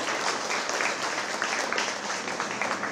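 Steady, dense applause from an audience at a children's contest awards ceremony, honoring a first-prize winner, continuous and fairly loud throughout.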